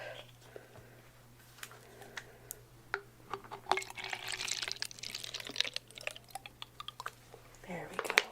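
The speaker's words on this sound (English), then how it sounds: "So I actually got this hand mister, which will hopefully be a little bit easier for you." A hand mister sprays bottled water in short, soft hissing bursts, close and delicate, scattered among small taps and handling sounds over a low steady hum.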